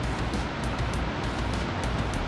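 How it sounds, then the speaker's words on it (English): A powerful waterfall pours millions of gallons of rushing water, making a dense, continuous roar that stays even and unbroken from start to finish. "there is something to be said about the sound of waterfalls"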